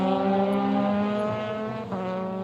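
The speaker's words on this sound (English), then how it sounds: "Drugovich is right with the Campos car as they swoop out of turn 5." Euroformula Open race cars at the Estoril circuit, sweeping out of a corner in a close battle: a loud, sustained high-revving engine howl with a strong harmonic whine that shifts pitch slightly as the cars run through.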